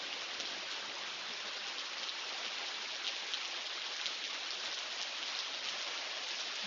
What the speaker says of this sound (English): It's like so loud that you can hear the rain.